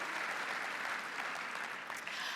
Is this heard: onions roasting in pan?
no